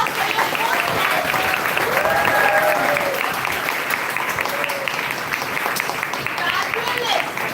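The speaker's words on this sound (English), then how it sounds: "can I have a round applause" A packed room at a literary club event breaks into sustained, loud applause from a large audience, dense clapping holding steady throughout with faint voices and cheers mixed in.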